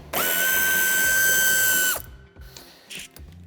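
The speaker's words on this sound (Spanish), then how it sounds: "quitamos el tornillo que sujeta el paragolpes de cabeza de 8" A power ratchet or drill-driven 8 mm socket whirs steadily for about two seconds, loosening a bumper screw on a 2015-on BMW 2 Series Gran Tourer (F46), followed by faint clicks and handling noises.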